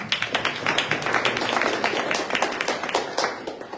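A small group claps steadily for a few seconds, close and fairly loud, with individual claps audible in the rhythm.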